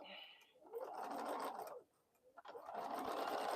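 A sewing machine runs in steady bursts while stitching fabric scraps together for a crumb-pieced quilt, loud and close, with a short pause in the middle before the stitching resumes.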